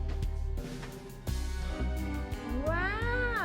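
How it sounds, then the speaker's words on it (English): A pet cat meows several times indoors, the calls rising and falling and ending in a long drawn-out meow, clear and close with no talk over them. "You brought your cat."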